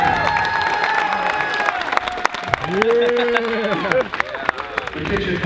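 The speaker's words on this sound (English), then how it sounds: "Give yourself a huge round of applause for coming out for our sixth year." Audience applause and cheering at a kitchen skatepark contest, scattered clapping and whoops from a crowd that rise and fall, with voices talking and shouting over them.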